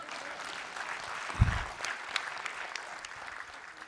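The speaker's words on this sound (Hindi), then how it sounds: "इस पे जरा ढंग से ताली बजा दो यार" An audience at a leadership development seminar gives steady, moderate applause, a continuous dense clapping wash with a brief low thump partway through, heard from a middle distance.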